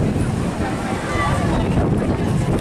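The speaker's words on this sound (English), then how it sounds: "Very windy." Strong wind blows on a beach, buffeting the microphone with a constant, loud, rushing roar.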